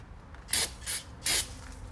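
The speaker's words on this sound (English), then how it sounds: "we're going to take a little bit of brake cleaner, clean off this" Brake cleaner sprays onto a truck's rear axle spindle during a hub rebuild on a 2500HD, in three short hissing bursts, the last one longer, close and loud.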